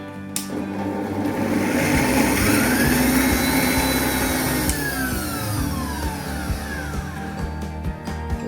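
A kitchen blender grinds ginger for sabudana vada, a loud continuous whirring roar that holds steady for the whole stretch with a slight drop and rise in pitch.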